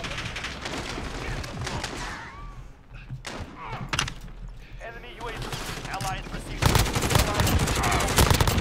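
Gunfire in the video game Modern Warfare: dense bursts and thumping shots over a busy battle din, with a voice talking over the action.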